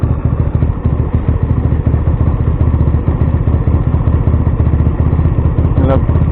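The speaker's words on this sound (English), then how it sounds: "That's the first time it's idled" A GSXR 50cc motorcycle engine idles steadily and loudly for the whole stretch, a dense, even mechanical rumble with a faint clatter near the end. No one speaks.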